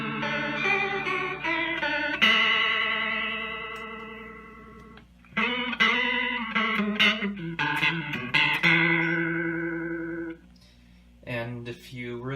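Electric guitar played through an Aural Condenser analog chorus pedal with the depth dialed back, giving a gentler shimmer. Chords and melodic runs ring out close and clear, with a brief pause near the end.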